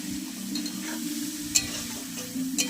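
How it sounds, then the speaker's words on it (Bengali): Onions sizzle steadily in a pan while cooking for a mutton-fat dish, a close, even frying hiss with a few brief pops and a low hum beneath. "দেখো আমরা ভালোভাবে পেঁয়াজটাকে ভেজে নিচ্ছি"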